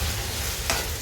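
Garlic, ginger, curry leaves and tomato stirred in a pan for a fish curry, a steady low sizzle with one brief scrape of the spoon near the end, no talking.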